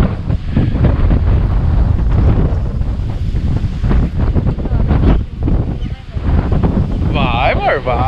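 Strong wind from an approaching storm buffets the microphone during a fishing outing, a constant roaring rumble mixed with water sounds and occasional voices underneath.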